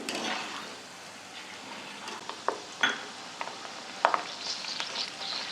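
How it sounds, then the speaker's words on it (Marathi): Peanuts frying in hot oil give a constant sizzle, broken by several sharp clinks of a utensil stirring against the pan. "शेंगदाणे असे खरपूस लाल तळून द्यायचे"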